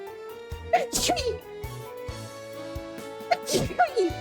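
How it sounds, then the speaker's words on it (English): Two sneezes from a person who has been sneezy from house cleaning, each a sharp burst over a quiet background with light music playing under the speaker's voice. "I'm going to sneeze, I am sorry"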